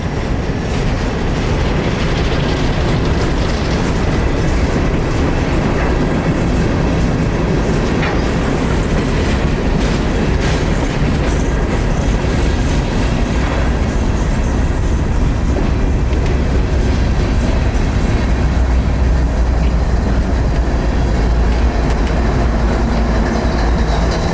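Train 738 shoving across a rail crossing: loud, close, continuous rumble of rolling railcars with rhythmic wheel clatter over the joints and a faint squeal, steady throughout with no talking.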